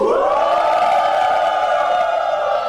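A stadium crowd at a Brazilian league football match boos in a long, sustained, loud massed drone that holds steady and fades slightly at the end.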